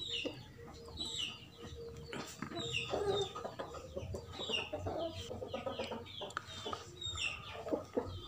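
Chickens clucking in a poultry coop, several birds with repeated short clucks and squawks at moderate distance, fairly faint but continuous throughout.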